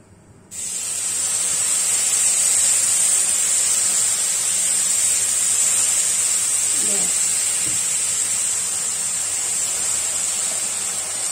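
Boiling water hits a pan of seafood rice being cooked like a risotto, giving a loud, steady hiss and sizzle that starts abruptly and holds throughout, with a faint voice beneath.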